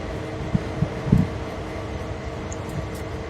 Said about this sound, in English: if you hear my fan in the background